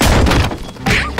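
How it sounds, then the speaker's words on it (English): A cartoon shelf crashing down onto a character's head: a loud thunk and crash at the start, a dip, then another heavy impact near the end, with no talking. "A shelf fell on your head."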